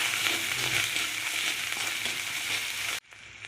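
A spoon stirs a sizzling pea filling with sugar and salt in a hot pan, steady frying hiss with scraping strokes, cutting off abruptly to a quieter background near the end.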